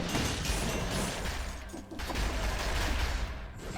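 Grenade blasts in the video game Dead Cells: a dense, loud barrage of overlapping explosions and crackling impacts rolling continuously for a few seconds, with no pauses and no voice.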